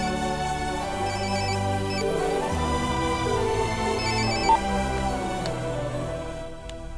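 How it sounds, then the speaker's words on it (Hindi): A mobile phone ringtone plays a repeating electronic melody, loud and close, running steadily for several seconds before cutting off near the end, with no voices over it. "ये लो, रिंग जा रही है"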